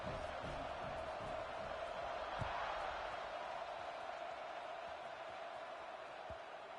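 A football stadium crowd roars steadily through a college game kickoff, a dense, constant wash of cheering with a few thuds and claps rising out of it and no clear voice on top.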